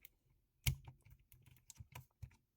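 A few small plastic clicks and taps sound close and quiet as a button is pressed to release the right Joy-Con from a Nintendo Switch 2, with one louder snap among them.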